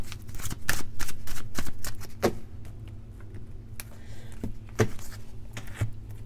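Tarot cards are shuffled by hand for a card reading, giving soft papery riffles and flicks in irregular bursts, fairly close and fairly quiet, with faint background noise.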